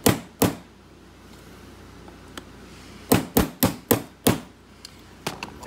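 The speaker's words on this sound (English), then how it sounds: "I guess I'll use a hammer." Sharp hammer blows on a CompX L-handle lock being taken apart to rekey: two isolated strikes, a pause, then a quick run of five or six hits followed by lighter taps, close by.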